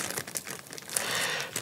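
A plastic zip bag holding tent pegs crinkles and rustles in short irregular bursts up close, with crisp crackling handling noise and no speech.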